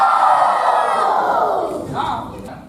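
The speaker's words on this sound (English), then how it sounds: "One more time, 2 claps and a Ric Flair." Football campers at a youth camp let out a loud, sustained group shout resembling a Ric Flair woo, a continuous crowd yell lasting a couple of seconds with a slight rise near the end; no distinct claps stand out.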